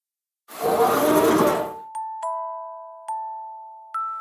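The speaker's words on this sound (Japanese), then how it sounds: "その時、ガラスの自動ドアがスライドして来客のチャイムが鳴った。" A shop's glass automatic door slides open with a broad whoosh, then a soft music-box chime plays Happy Birthday as a customer arrives, a few gentle plucked tones ringing out clearly after the door noise.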